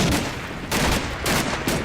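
Rifle grenade fire and battle noise in the World War II strategy game Combat Mission Battle for Normandy: several sharp, loud blasts in quick succession over a dense din of gunfire.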